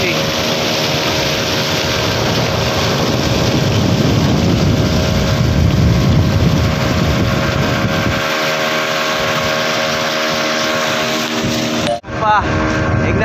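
A motor fishing boat off Ratnagiri runs at sea, its engine droning loud and steady with wind buffeting the microphone, the hum continuing after the wind noise drops away.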